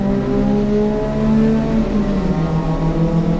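A BMW race car engine drones steadily down the final straight at a Lemons endurance race at Ridge Motorsports Park, a continuous whining pitch rising and shifting as it pushes on, loud and close with no talk.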